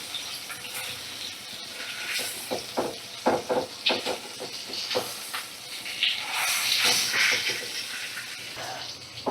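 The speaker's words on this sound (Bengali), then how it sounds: "মিডিয়াম ফ্লেমে রেখে ইলিশ মাছের মাথাটা ভাজা করে নেব" A hilsa fish head fries in a pan over medium flame, giving a steady oily hiss broken by irregular crackles and spattering pops.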